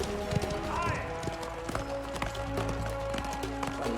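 Galloping horse hooves in the video game Mafia The Old Country, a steady clip-clop rhythm running through a race amid game music and ambience, with someone talking over it.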